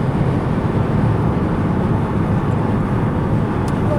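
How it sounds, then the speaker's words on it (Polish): Combustion engine of a Renault Captur PHEV plug-in hybrid running at highway speed, a steady broadband drone mixed with road and wind noise, loud and unbroken throughout. "już się silnik spalinowy widzicie włączył"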